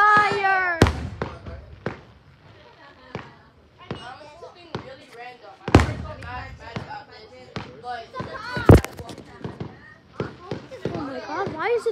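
Fourth of July fireworks in Heartland, Texas go off as a few sharp, loud bangs spread across the clip, with people talking excitedly throughout.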